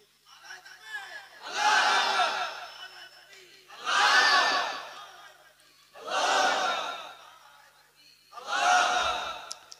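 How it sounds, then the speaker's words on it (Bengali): A waz gathering crowd shouts takbir together in four loud, drawn-out collective roars, each lasting about two seconds with short pauses between, many voices blending into a massed cry. "দেন তাকবীর মারেন দেখি।"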